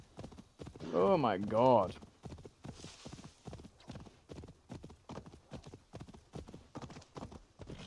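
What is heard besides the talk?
horse hooves in a video game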